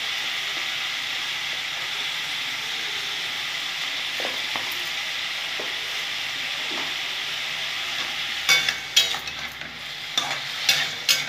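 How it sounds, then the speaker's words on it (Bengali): Cucumber sautéing in a pan with salt and turmeric gives a steady, bright sizzle throughout, with occasional scraping and clinking taps of a spatula stirring against the pan growing more frequent toward the end. "খুব ভালো করে আমি শসাটাকে সাঁতলে নেব বন্ধুরা"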